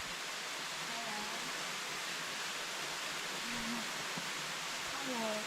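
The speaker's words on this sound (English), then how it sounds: "See the waterfall?" A waterfall in remote shaded forest roars as a broad, steady wash of falling water, with faint voices and soft bird calls drifting in over the constant rush.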